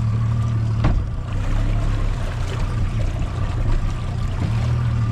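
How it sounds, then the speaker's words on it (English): A brand-new Yamaha VMAX SHO 200 outboard boat motor idles at first start-up, a steady low engine hum with a faint water trickle, running alone and unbroken throughout. "So we got our first turnover on the new Yamaha VMAX SHO 200."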